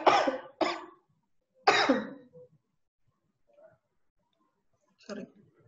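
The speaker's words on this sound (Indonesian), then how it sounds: "Bentar, saya mau batuk dulu." Two quick coughs, then a third louder cough a moment later, close to the microphone, followed by near silence and a brief faint sound near the end.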